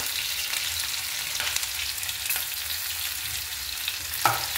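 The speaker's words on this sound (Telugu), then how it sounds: "నూనె ఉల్లిపాయ పచ్చిమిర్చి 2 వేసేసానండి." Onion and two green chillies frying in hot oil for a dried-fish and bottle gourd curry, giving a steady, close sizzle with a brief sharper crackle near the end; no one speaks.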